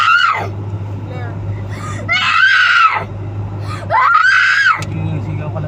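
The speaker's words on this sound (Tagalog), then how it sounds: "Sige, sigaw ka lang dyan." A child screams on an MRT-3 train ride between Cubao and North Avenue, three long, piercing wails separated by short pauses, loud and close over a steady low train hum.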